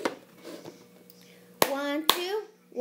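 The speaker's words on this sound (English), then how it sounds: "Clap, clap, one, two, three, clap, pick, drop, clap, get, tap." Hands clap during a cup song routine: two sharp, close claps about half a second apart after softer taps and a faint voice, in a quiet room.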